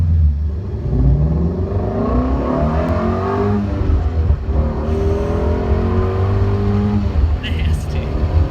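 A Ford Mustang Shelby GT350 engine revs loudly up close, its rising and falling pitch sweeping through repeated accelerations over a constant deep rumble.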